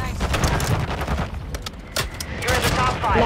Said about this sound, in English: Oh, shoot, somebody's shooting at me.